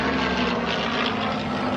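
Vintage propeller warplane flying at the 2018 La Ferté-Alais airshow, a loud, steady engine roar with a constant droning tone, close and sustained throughout.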